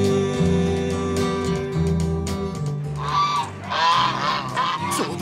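Geese honk loudly in Madagascar, a cluster of harsh calls close by over a dense, continuous background.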